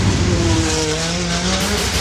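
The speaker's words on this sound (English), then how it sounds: "You put him in that car and you send him down that orange track" Race car driven by Tanner Faust roars steadily down an orange track, with a loud, continuous engine drone and faint tire squeal.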